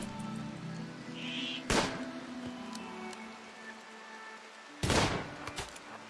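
Colonists firing weapons in the colony-building game Rimworld: two sharp, isolated shots several seconds apart, heard over a faint, low background hum.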